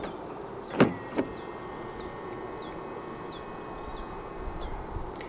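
Two sharp mechanical clunks of a 2023 Volkswagen Golf GTI locking via its front door handle, followed by a row of faint, evenly spaced high chirps over steady outdoor background noise.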